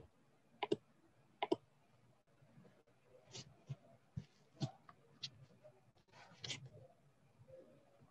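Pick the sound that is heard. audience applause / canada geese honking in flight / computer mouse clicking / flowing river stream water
computer mouse clicking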